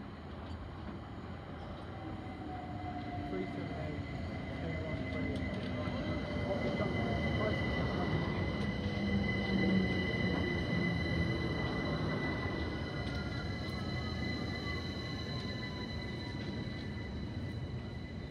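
A London Overground train rumbles into Kensal Green Station steadily with a low broad roar and faint high whine, moderately distant, with no talk over it.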